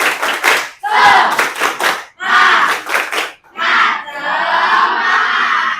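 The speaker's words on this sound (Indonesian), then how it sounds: "kita melakukan tepuk semangat yuk nak" Schoolchildren in a classroom doing a rhythmic 'tepuk semangat' clapping chant, bursts of unison claps and shouted chant in short phrases, close and loud, ending in a longer sustained group shout.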